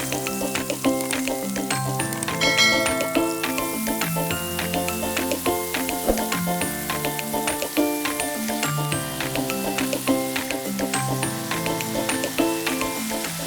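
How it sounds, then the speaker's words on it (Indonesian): Marinated beef tongue slices sizzle and crackle steadily in hot frying oil, a continuous hiss heard beneath loud background music. "Lalu, masukkan irisan lidah sapi yang sudah dimarinasi tadi."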